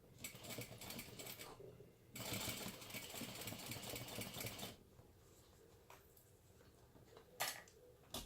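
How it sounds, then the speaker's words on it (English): A sewing machine runs in steady bursts as it stitches the second side of a bag seam with foam left in the seam allowance, a fast mechanical whirring that stops and starts close to the microphone. "And now we'll sew the other side."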